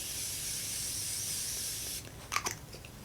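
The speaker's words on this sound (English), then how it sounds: "I just spray that all over and then let it dry" Setting spray misted over a face during a makeup routine, a steady close hiss lasting about two seconds, then stopping, followed by a few faint clicks and handling sounds.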